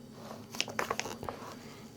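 Crisp, close bites and crunching chews of spicy green onion kimchi, a few quick crunchy bursts in the middle of a quiet moment with no talking.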